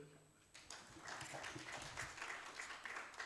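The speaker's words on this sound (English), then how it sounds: "Shall we clap for him?" Conference audience at a university breaking into applause after a short quiet moment, many hands clapping steadily at a moderate, somewhat distant level, with no talking over it.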